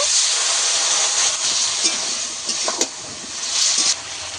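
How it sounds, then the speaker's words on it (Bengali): Water splashed onto spices frying in a pan sets off a sharp, bright steaming hiss that swells and falls in a few bursts over a few seconds, close and loud, with no speech. "মশলা জল দিয়ে দেব।"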